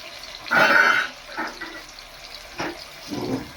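A small glass of water poured into a hot frying pan of liver and gizzards, giving a loud splashing hiss followed by a few shorter bursts of bubbling and spattering, close and clear with no talking.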